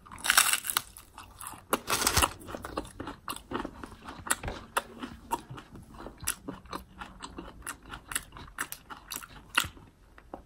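Loud, close chewing and lip-smacking while eating Taco Bell food: sharp crunchy bites and wet smacks in an irregular rhythm, heaviest at the start, with no speech.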